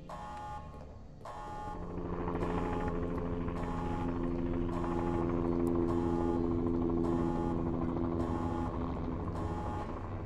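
Game audio from Resident Evil Code: Veronica X: a steady helicopter rotor drone under a repeating electronic alarm that pulses in regular beeps, loud and continuous throughout with no talking.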